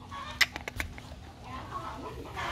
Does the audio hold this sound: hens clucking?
yes